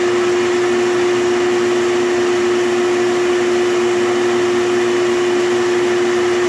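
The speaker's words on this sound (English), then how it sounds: "Sorry for the loud vacuum noise" A loud vacuum cleaner runs steadily throughout at night, sucking up yellow jackets from under a floor, with a constant motor whine and airflow and no other sound.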